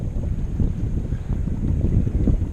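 Sailboat moving under sail with its engine shut off, a steady broadband rush of wind across the microphone with low water wash beneath, fairly loud and continuous.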